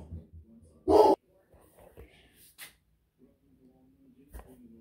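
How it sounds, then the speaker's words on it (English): A dog kicks up a fuss indoors with one loud, close bark, followed by faint whimpers, snuffles and low breathy noises in a quiet room. "My dog was pitching a fit."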